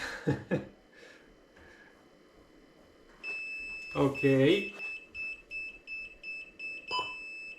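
A wireless camera powering up gives a short series of electronic beeps, then a steady high tone with more bleeps, while a person speaks briefly over them.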